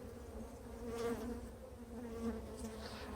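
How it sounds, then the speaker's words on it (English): A freshly caught swarm of bees crowded inside a hive box gives off a dense, continuous buzzing hum that swells and eases slightly, close up, with no talking. "since there's so many bees in here"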